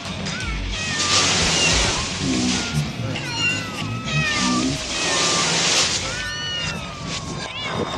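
Several cats meowing and wailing in overlapping, rising and falling cries over loud, rushing broadband noise, with voices mixed in.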